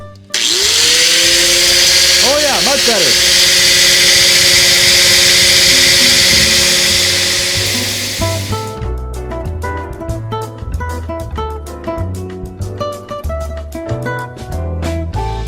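An angle grinder cutting steel screams loudly and steadily for about eight seconds, then winds down with a few rattling clunks; someone speaks briefly afterward.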